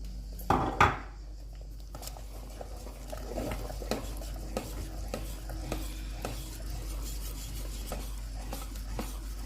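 Spoon stirring and scraping through white sauce in a pan after cheese is added, soft rubbing strokes with an early clatter against the pan and a low steady stove hum beneath.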